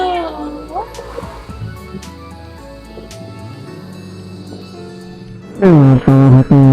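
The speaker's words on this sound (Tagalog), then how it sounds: "Meow meow." Household cats meowing indoors near the microphone, a few drawn-out meows at the start, then a loud burst of repeated, strongly voiced meows near the end, with soft background noise between.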